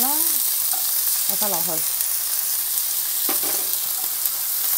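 Sliced meat and rice noodles sizzle steadily in a hot wok as they are stir-fried, a loud continuous frying hiss with a few brief spoken words over it.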